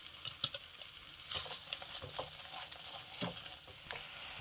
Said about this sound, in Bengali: এবার ওই চিংড়ি মাছ ভাজা তেলেই আমি এটাকে একটু নাড়িয়ে নেব।